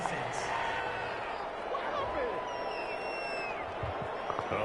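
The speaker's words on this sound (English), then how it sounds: "Well, this crowd does not like that call." Stadium crowd in the football game Madden 21 reacting to a roughing-the-passer penalty, a steady roar of voices and whistles with scattered shouts, heard beneath talking throughout.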